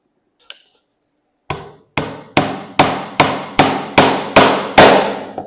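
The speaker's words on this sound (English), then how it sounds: "If you've got these two hammers, the claw hammer is a heavier hammer." A claw hammer strikes with eight sharp, loud metallic blows in an even rhythm, each ringing briefly, after a faint tap, with no speech.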